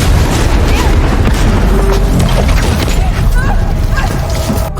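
A bomb explosion in an action film, a loud, dense roaring blast filling the whole clip with rumbling debris and crackle, no talk heard.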